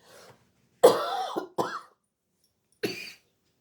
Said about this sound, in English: I had to pause you there, I had a coughing fit.